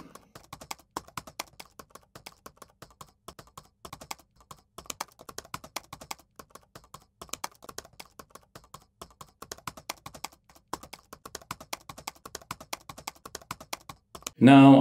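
Steady typing of code on a computer keyboard, a dense stream of light clicky keystrokes with brief pauses, close and fairly quiet, ending with a louder burst.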